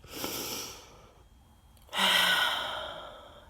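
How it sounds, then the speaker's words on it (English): Two deep calming breaths, a long exhale followed after a short pause by a louder, rushing breath out, close and alone with no talk. "some calming techniques could be things like, taking big breaths,"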